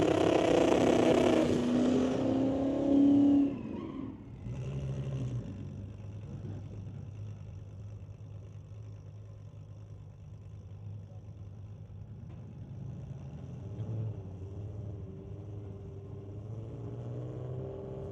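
Cars lined up for a street-legal drag race at Mission Raceway Park, a 1996 Volkswagen Golf against a 2003 Ford Mustang, with a loud close revving burst that drops to a steady low engine rumble.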